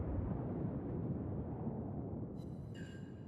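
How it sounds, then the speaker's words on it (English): A battleship shell striking a Großer Kurfürst's citadel in the video game World of Warships: a dense, rumbling roar of explosion noise sustained throughout, later joined by faint tonal ringing chimes. "There is a nice citadel hit there"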